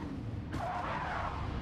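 A handbrake skid in the Gran Turismo 7 racing game: a sudden broad, hissing tire scrub that rises halfway through and holds steady over a constant low engine rumble.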